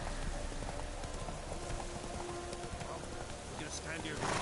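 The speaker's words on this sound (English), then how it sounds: "Run, Roach" In The Witcher 3, a horse gallops with steady clip-clop hoofbeats that run throughout under dense game ambience, with no pause in the rhythm.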